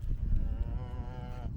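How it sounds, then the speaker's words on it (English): A single cow moos in a drawn-out, low, tonal call across a foggy Cornish field near Lands End, fairly close, over rumbling wind noise. "Lots of cows, lots of sheep."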